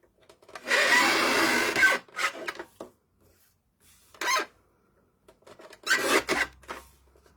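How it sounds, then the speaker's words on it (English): A noisy paper guillotine trims album paper in several bursts, one long harsh grinding cut followed by shorter rasping strokes separated by silent pauses, close and loud, with no talking. "I'm just going to trim it down with my very, very noisy guillotine"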